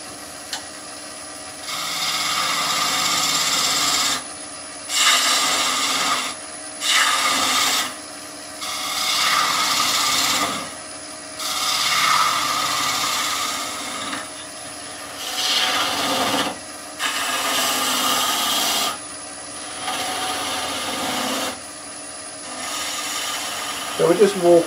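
A woodturning gouge cuts a natural edge vase on a lathe, giving loud rasping, shaving bursts of a few seconds each, broken by short pauses between passes.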